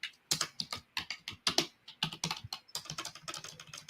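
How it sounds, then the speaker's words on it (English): Loud computer keyboard typing, fast clattering keystrokes in rapid uneven bursts with brief pauses, close and sharp with no voices over it. "that's the loudest typing I've ever heard"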